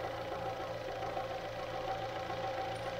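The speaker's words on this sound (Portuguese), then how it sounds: "Estão escutando o barulho também da correia?" A 2012 Fiat Strada engine running warm at idle, giving a steady mechanical drone with a faint rhythmic ticking and whirring from the timing belt area, continuous and close, with no talking.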